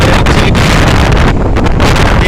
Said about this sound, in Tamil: அந்த அளவுக்கு வந்து காற்று தள்ளுது ரொம்ப வேகமாகவும் இருக்குது காற்று